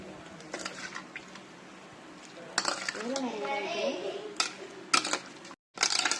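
Goat liver mixed with yogurt and salt in a bowl, soft wet squishing and scraping with occasional spoon clinks against the bowl, close up, while someone talks over it.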